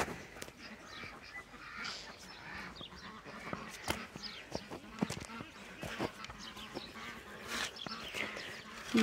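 Geese honk from a neighbouring pen on a farm in summer, a few loud calls rising over a busy outdoor background of rustling and footsteps, with no clear talk.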